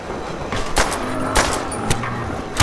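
Gunshots in Call of Duty: World at War's Nazi Zombies mode on the Der Riese map, several sharp, loud single reports spaced unevenly across a few seconds over steady game background noise.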